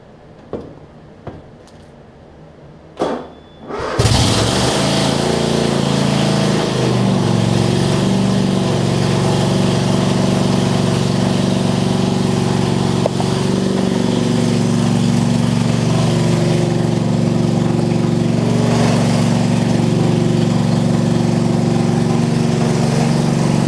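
Troy-Bilt Mustang zero-turn mower engine, in rusty condition with a muffler that had fallen off: a few clicks and cranking, then it catches and settles into a loud, steady idle running close by.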